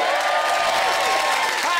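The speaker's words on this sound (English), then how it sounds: "let's have this side of the room cheering on three" One side of a comedy TV studio audience cheering and shouting on cue, a loud burst of crowd whoops and yells with clapping mixed in, brief and energetic.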